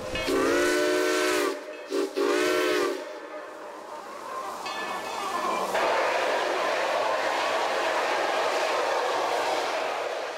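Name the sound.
steam train whistle blowing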